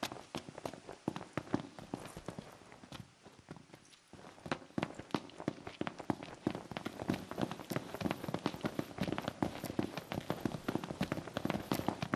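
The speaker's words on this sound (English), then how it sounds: "It's starting to come down. Ah, perfect. A little rain never hurt anybody." Steady rain patters across a surface in the Final Fantasy XV game world, mixed with rhythmic footsteps or hoof-like clops that keep a constant pace, moderately close and without talk.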